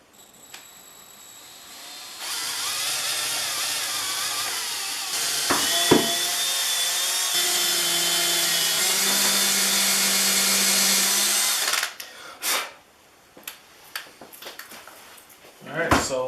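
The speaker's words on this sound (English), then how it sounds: "Alright, so the holes are pre-drilled." Power drill boring pilot holes into wood for a DIY wine and coffee holder, a sustained whirring drone with pitch shifts for about ten seconds, then scattered clicks and handling noises, with a voice briefly under it.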